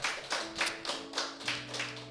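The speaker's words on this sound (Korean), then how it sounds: "우리 하나님께 감사의 박수 올려드리겠습니다" Congregation at a church prayer meeting clapping in unison, six or seven strong rhythmic claps close by, with a held organ or keyboard chord sounding underneath.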